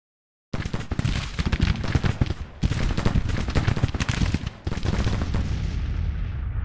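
Musket volleys crackle in a Civil War video game, a dense, uneven rattle of many overlapping shots that keeps going for several seconds with brief lulls between bursts.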